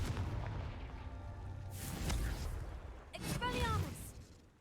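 A Confringo spell blast from the Hogwarts Legacy video game: two loud, broadband fiery bursts in quick succession, the second carrying a rising whistling tone, with a busy game soundscape underneath.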